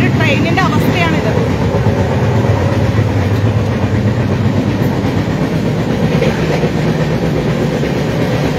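Indian passenger train rolling along rails, a constant loud rumble with rhythmic clatter heard from inside a crowded coach, with background voices.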